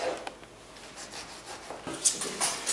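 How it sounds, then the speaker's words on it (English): A serrated bread knife saws through aubergine, giving soft, close rubbing strokes that build into sharper crisp rasps toward the end, with no talking. "I've got my trusty bread knife."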